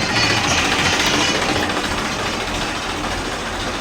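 A farm tractor's engine runs close and loud on a rural field plot, a steady rough diesel chug and rattle holding for several seconds with no voices over it.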